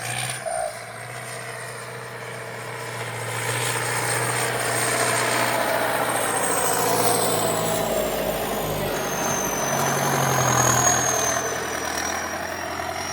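An engine idles roughly with a faint rapid valve-tapping tick under the steady drone, a mechanical tapping that continues throughout, close by.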